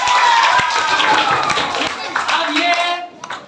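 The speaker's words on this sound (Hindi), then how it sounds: "इनके लिए जोरदार ताली" An audience at a school children's quiz programme claps for a winning contestant, a loud, dense burst of applause that tapers off near the end, with voices talking over it.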